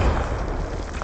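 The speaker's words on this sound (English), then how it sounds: "Frag out! Grenade!" A frag grenade detonates in a video game: one short, loud, booming blast of broadband noise that fades quickly.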